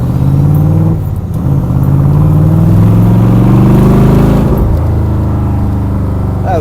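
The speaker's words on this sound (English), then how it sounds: "I'm going to let you hear the car here." A 1966 Corvette's engine drives loud and close in first and second gear, its steady rumble rising through the first gear, dipping briefly at the shift near the one-second mark, then climbing again before easing off.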